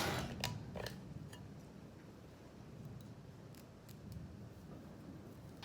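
Scissors snip a human-hair lace front wig near the ear area, a few soft, close cuts that are faint against a quiet room background, with no talking.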